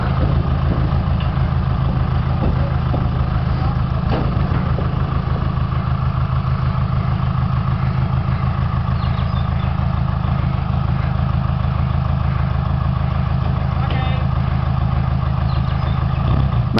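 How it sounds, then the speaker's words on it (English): A vintage railroad ambulance car at a railroad museum idles with a steady, low, rumbling engine drone, constant and fairly loud throughout with no speech. "Mike Barlow operating Old Smokey in the ambulance car"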